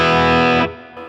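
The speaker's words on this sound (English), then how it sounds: "Here's what the Blues Breaker." Electric guitar driven through a Blues Breaker overdrive pedal preset: a single brief sustained chord with a thick, gritty tone, close and loud, then cut off abruptly.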